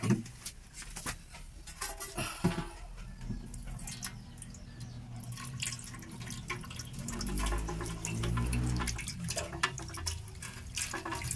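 Water running from a tap, a steady splashing stream that grows heavier toward the end, heard close and alone without speech.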